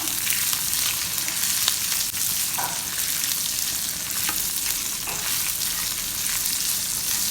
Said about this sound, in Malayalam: അതിലേക്ക് വെളുത്തുള്ളി ഇട്ട് എന്നിട്ടൊന്ന് മിക്സ് ചെയ്തെടുക്കാം